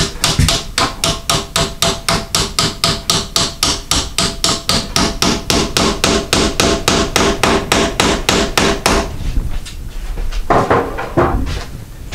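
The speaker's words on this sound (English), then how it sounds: "then we take our hammer," Steel hammer tapping a door hinge pin down to fit a hinge-pin door stop, a rapid steady run of sharp metallic knocks for about nine seconds, then a few scattered louder taps, close and loud with no talking.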